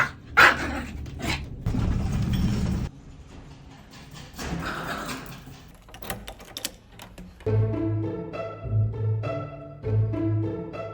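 Dogs on a city street walk in New York bark and yip in loud bursts, with a deeper repeated bark toward the end over busy outdoor background noise.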